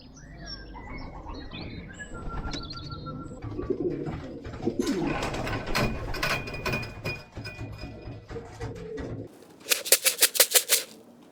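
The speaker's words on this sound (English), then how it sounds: "Ah, it's a wood pigeon, Dan" Wood pigeon arriving at a racing pigeon loft: soft coos and chirps amid wing flutters and rustling, ending in a sharp burst of rapid, loud wingbeat claps close by.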